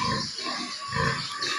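Pigs grunting on a farm, a steady run of low grunts and snorts close by, with no talk over them.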